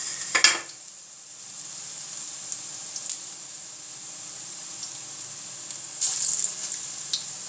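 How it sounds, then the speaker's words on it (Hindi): Bottle gourd (lauki) koftas fry in hot oil at home, giving a steady high sizzle with a sharp clatter of a utensil at the start and a few stirring clinks later on. "देखें माशाल्लाह से हमारे कोफ्ते हो रहे हैं फ्राई।"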